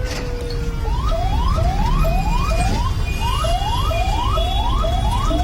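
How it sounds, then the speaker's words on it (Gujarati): A wailing ambulance siren sweeps up repeatedly in quick, regular cycles over a low rumble of road traffic on a city bus lane, loud and close, as a car blocks its way. "વારંવાર સાયરન આપવા છતાંય ડ્રાઈવરે સાઇડ ન આપી"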